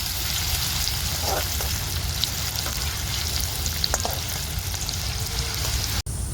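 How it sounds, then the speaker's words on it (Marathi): Finely chopped onion fries in a pan until reddish, a continuous close crackling sizzle with a few faint pops, steady throughout before a sudden cut near the end. "आता कांदा ना मी लाल होत तर परतून घेणार आहे"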